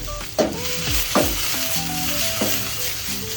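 Ginger sizzles and fries in a Japanese wok while a utensil stirs through it, giving a steady crackle with a few sharper scraping strokes near the start and middle.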